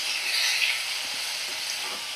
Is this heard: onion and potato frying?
yes